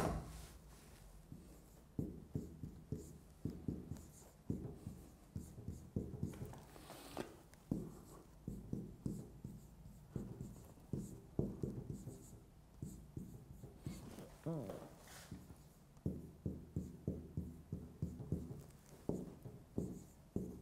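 Chalk or marker scratches and taps on a board during a mathematics lecture, in quick rhythmic bursts of strokes separated by short pauses, close and fairly quiet in a large room.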